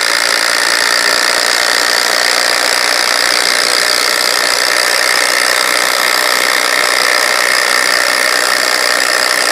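Two Bosch GDR18V-220C cordless impact drivers run together driving screws, giving a steady, loud buzzing hammer rattle that holds without pause for the whole stretch, with no talking.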